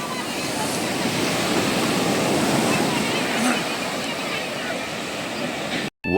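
Sea waves break on the shore at Tiruchendur in a continuous, close, full roar of surf, cutting off briefly just before the end.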